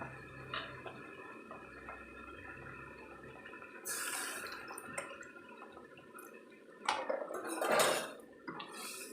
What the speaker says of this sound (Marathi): तुम्हाला कितपत पातळ पाहिजे त्या हिशोबाने तुम्ही पाणी ओता